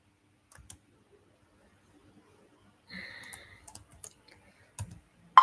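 Sparse computer keyboard clicks while Python code is being written, a few isolated keystrokes and short bursts spread across a mostly quiet stretch, close and soft.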